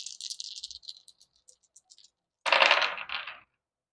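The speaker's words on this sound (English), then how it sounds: "Gotta pause and pick up this damn dice." Dice rattle in two bursts, first a quick scatter of light clicks tapering off, then a louder, denser shake after a pause, close and alone.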